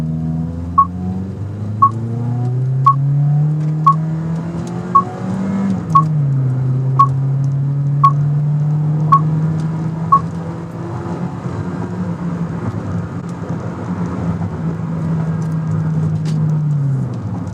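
A 2017 Toyota Corolla accelerating from 0 to 60 mph, its engine drone climbing and dropping as the transmission shifts up through the gears, with regular short electronic beeps in the first half.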